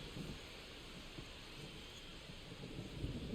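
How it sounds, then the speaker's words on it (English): Steady rain falls with thunder rumbling low and continuous inside MLB The Show 25, a baseball video game, a dense wash of storm noise at moderate level with no voices. "This rain is not letting up."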